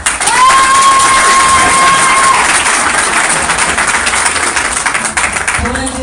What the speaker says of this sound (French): Donc applaudissez pour le Maroc.